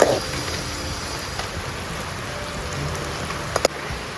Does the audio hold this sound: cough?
no